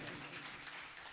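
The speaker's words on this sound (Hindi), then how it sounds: "एक बार जोरदार ताली फिर मम्मी के लिए" Steady, distant applause from a large religious gathering, honouring mothers, fills the space evenly with no clear breaks.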